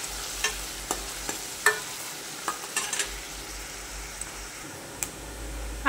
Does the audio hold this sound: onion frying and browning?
yes